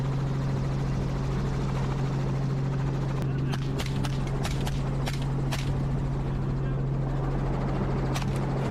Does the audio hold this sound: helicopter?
yes